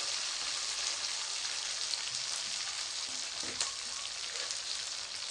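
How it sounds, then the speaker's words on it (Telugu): Tomato pieces go into a pan of hot oil for Andhra fish curry, giving a dense, even hiss of frying that sounds a little like rain, with a brief faint knock and no voices. "ఇప్పుడు టమాటా ముక్కలు వేసేసుకుంటున్నాము"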